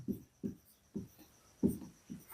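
Chalk or marker writing a physics formula on a classroom board, a series of soft rhythmic strokes and taps, close and quiet with no talk.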